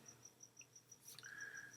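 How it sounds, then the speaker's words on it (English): Crickets chirp in a steady, rapid pulsing rhythm, faint and continuous against quiet night background, with no voices. "The crickets are loud."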